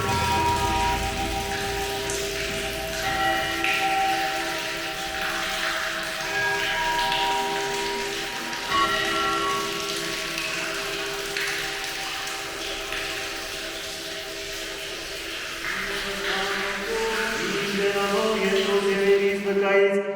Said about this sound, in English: you can also hear the church bells ringing right now